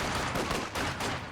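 Dense gunfire from a Company of Heroes 2 battle, with LMG Grenadiers under fire, roars as a continuous overlapping fusillade of rapid shots, loud and crowded with no gaps.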